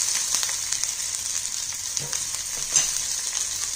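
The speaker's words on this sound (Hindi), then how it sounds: "थोड़ा सा करी पत्ता, थोड़ा सा हरा धनिया की डंडियों के साथ कटा हुआ हरा धनिया, इसको सबको भून लेंगे।" Curry leaves and chopped green coriander with stems sautéing in a pan for kadhi, a steady close sizzle with a few soft stirring knocks, no voices.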